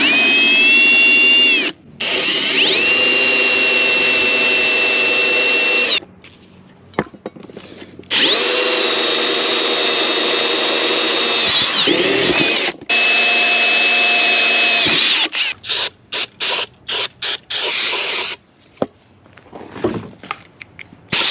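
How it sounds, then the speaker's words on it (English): A drill bores into a cracked cast iron Jeep exhaust manifold in several sustained whining runs of a few seconds each, close and loud, followed by a string of short bursts as the bit stops and starts. "we're gonna drill right here, we're gonna drill right there"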